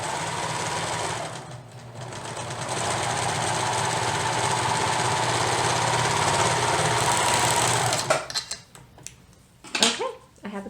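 A sewing machine stitches a seam in basic underwear, running in a loud, steady whir for about eight seconds before stopping, followed by brief handling clatter and a short bit of speech.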